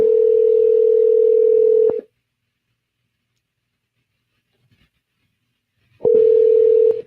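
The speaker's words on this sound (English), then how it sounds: "You guys can hear it ringing?" A telephone call tone plays loudly through a phone speaker as a steady, unbroken buzz for about two seconds, goes silent for roughly four seconds, then starts again, with no talking in between.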